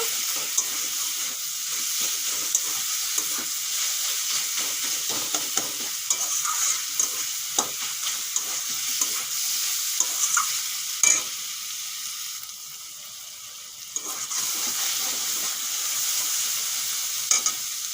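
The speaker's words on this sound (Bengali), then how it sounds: "শাক ভাজা হয়ে গেছে এখন নামিয়ে নেব" Kumro shak, pumpkin greens, frying in a pan in a Bengali kitchen: a steady, fairly loud sizzle and hiss, broken by occasional sharp utensil taps, briefly easing midway before resuming.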